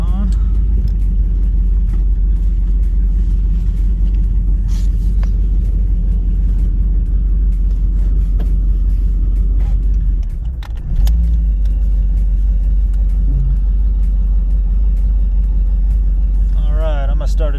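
A Nissan 240 accelerating hard on a full-throttle pull, a loud, continuous low engine roar heard from inside the car with a brief dip midway, and occasional voices over it.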